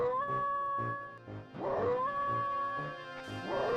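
Lupus the dog howling in the video game Jet Force Gemini, two drawn-out tonal howls ending in yips, repeated with short gaps, clear and alone.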